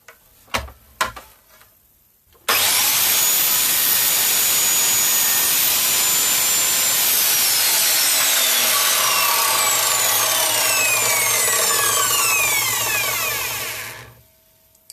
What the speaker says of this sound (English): Right, power tool's going on again, so mind your ears.